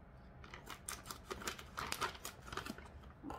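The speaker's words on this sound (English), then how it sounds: "I just have to grab my scissors because they didn't open the bag yet." Scissors snip through the paper of a cornmeal bag in a home kitchen, a run of crisp close cuts and crinkles over about three seconds with no talking.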